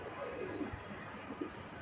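Black and white Jak Gola Rampuri highflyer pigeons give two soft, low coos close by, faint against a quiet background.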